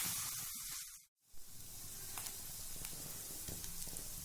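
Chicken tikka fries in a pan over a low flame with a steady, close sizzling hiss that breaks off for a moment, then resumes with faint pops and crackles and no voices.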